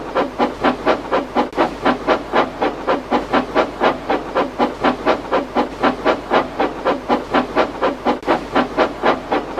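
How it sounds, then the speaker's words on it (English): A steam locomotive chuffs in a steady, rapid rhythm of sharp, hissing puffs, loud and close. The pace stays even throughout. "The only engine left in the shed was Edward."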